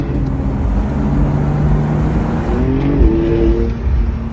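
A Porsche 911 Turbo drives on the road, its engine a loud, steady close drone that rises in pitch with a shift partway through.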